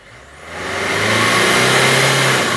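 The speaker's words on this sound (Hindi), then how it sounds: "रेस दे जरा रेस दे।" A Renault Duster engine with low pickup, burning oil and giving white smoke, revs up from idle into a loud, sustained high rev held close by.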